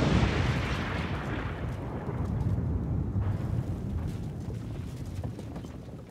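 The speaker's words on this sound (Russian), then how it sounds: "Взрыв." Heavy, booming blast with rumbling noise in footage of the terror attack at Lubyanka metro station in Moscow, sustained broadband roar that stays loud throughout, no talk.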